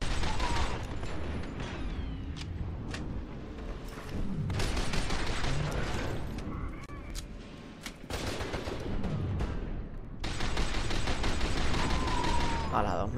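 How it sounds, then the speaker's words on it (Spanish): Gunshots in the video game FEAR 2 crackle in repeated sharp bursts and rapid volleys over a noisy, reverberant background, fairly loud and continuing across the span with brief pauses between flurries. "Y estoy escuchando disparos."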